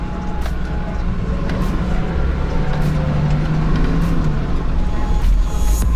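A Nissan Safari Y60 driving along, a steady, loud engine and road rumble heard from inside the cabin with no talking.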